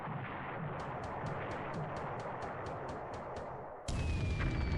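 In the War in the Pacific video game, a 1,000-pound bomb strikes a ship: a rapid series of sharp clicks leads into a sudden loud burst of roaring noise.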